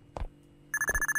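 A phone rings in the horror video game Rootman as a rapid, bright electronic trill that starts after two soft thumps and repeats quickly and steadily to the end.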